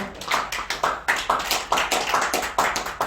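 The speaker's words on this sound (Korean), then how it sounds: "박수 한번 주세요" Audience applause at a rotary club talk in Seoul: loud, close, rhythmic clapping with regular, evenly spaced claps, like a group clapping in unison, filling the whole stretch without speech.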